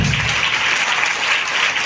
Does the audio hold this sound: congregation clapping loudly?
yes